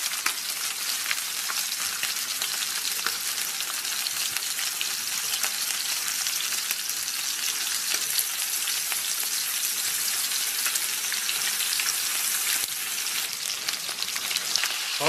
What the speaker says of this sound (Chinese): 这不放一滴油啊，满满的油脂，每次看到这种滋滋冒油的状态啊